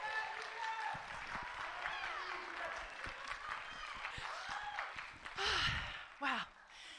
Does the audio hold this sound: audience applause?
yes